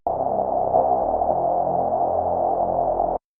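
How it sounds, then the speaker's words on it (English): A dark, muffled Access Virus TI synthesizer drone with its filters routed in series, rolled-off highs, held steadily for about three seconds before cutting off sharply. "if we put that same configuration in series, it sounds completely different."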